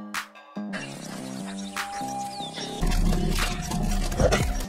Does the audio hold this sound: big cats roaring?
yes